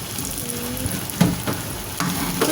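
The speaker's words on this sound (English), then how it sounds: "So I'm going to saute the sauce as well, and I'm going to let it thick a little bit." Chili sauce sizzling and frying in a pan for Hakka noodles, a steady close crackle with a few stirring scrapes and clicks.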